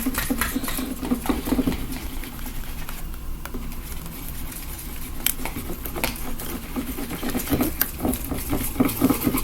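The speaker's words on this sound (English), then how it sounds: "basically just tape around the whole entire thing." Tape is pulled and wrapped around a Lego pop it up close, giving a steady run of crinkly, scratchy patter with sharp little clicks and ticks throughout.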